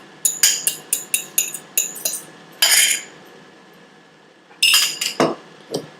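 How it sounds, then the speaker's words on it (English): A fork beats eggs in a bowl with quick bursts of light clinking and tapping against the side. A short run of strokes comes first, then a louder scraping swirl, then another cluster of taps, all close and with no talk. "I always like to beat the eggs with a fork because it's easier to control"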